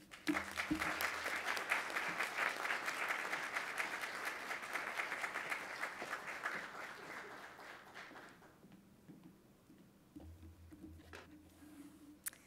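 A lecture audience at the College of the Holy Cross applauds to welcome speaker Rachel Swarns, loud dense clapping that holds for about eight seconds and then tapers off into scattered claps.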